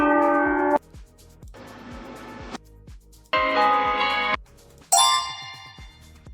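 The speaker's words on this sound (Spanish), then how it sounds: "el primero es el más sonido a campana de bodas" Four AI-generated wedding bell sound effects play one after another, each a bright ringing peal of about a second or more with separate gaps between, the last sharper and higher.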